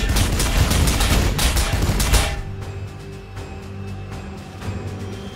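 Dense bursts of gunfire loaded with Kraken penetrator ammo in the strategy game Warhammer 40K Sanctus Reach, loud and continuous for about two seconds, then cutting off to quieter scattered impacts and a low hum.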